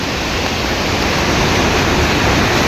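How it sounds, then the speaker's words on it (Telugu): Rushing water at Tarabu waterfall in Andhra Pradesh, a loud, steady broadband roar that fills the whole moment without a break, like a strong windstorm; no voices. "ఇక్కడ వాటర్ ఫ్లోటింగ్కి సౌండ్ డిఫరెన్స్గా ఉందన్నమాట"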